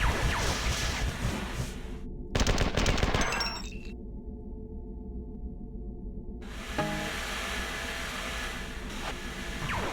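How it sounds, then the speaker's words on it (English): Gunfire from monsters trading shots down the end of a hallway in the game Marathon 2: Durandal, rapid bursts of shooting in loud chunks separated by a brief silent gap, with synthetic hiss and rumble. "They're all shooting each other down at the end of the hall."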